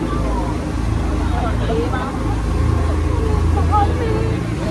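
A speedboat on a Phi Phi Island tour off Phuket, Thailand runs at speed, its steady engine roar and hull rumble continuous and loud throughout.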